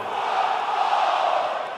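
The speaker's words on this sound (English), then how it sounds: "Listen to this crowd, guys. They're fired up for this one." Crowd noise roars steadily in a WWE 2K20 wrestling arena as a tag team heads to the ring, a dense, sustained mass of cheering voices throughout.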